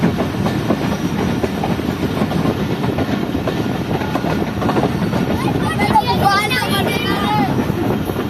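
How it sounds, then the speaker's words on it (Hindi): A passenger train rolls into Tando Jam railway station, a dense rumbling clatter of wheels on rails heard from on board, with someone speaking over the continuous noise. "तो इस वक्त ट्रेन एंटर हो रही है टंडो जाम रेलवे स्टेशन पर"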